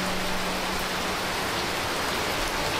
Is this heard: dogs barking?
no